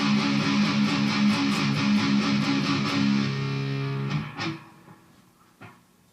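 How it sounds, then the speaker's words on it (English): A distorted electric guitar plays a song with palm-muted strumming, giving tight, chugging repeated chords at a steady pulse before a couple of looser hits and fading noise. "Another technique that you'll need to know for this song that is fairly basic is called palm muting"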